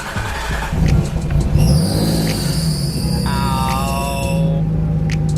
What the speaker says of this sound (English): we're going to quickly start the car and let the car get up to temp